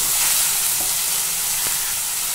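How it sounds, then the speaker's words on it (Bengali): Ginger-garlic paste with turmeric, chili, coriander and cumin powders sizzling loudly in a pan while being stirred for a Bengali dish, a steady dense fry with a couple of faint scrapes and no talking. "একটু কষিয়ে নেব।"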